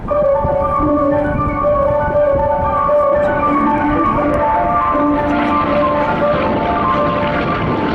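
FG-1D Corsair fighter with an 18-cylinder radial engine and huge propeller at an airshow, a loud steady droning roar with humming tones, continuous and nearby, buffeted by wind.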